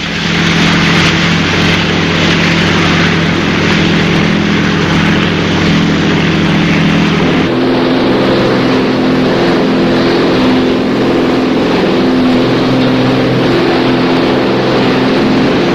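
Motorboat engines run steadily and loudly on open water during a search for sunken treasure barges, a dense continuous drone with a stable low hum that drops in pitch and level partway through as the engines ease back.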